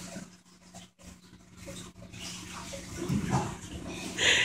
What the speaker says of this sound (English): It sounds like he's ice skating on the bottom of the bathtub.